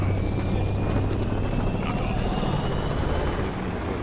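A helicopter drones steadily in Modern Warfare III, a loud, continuous low rotor rumble with wind-like noise, with voices speaking over it.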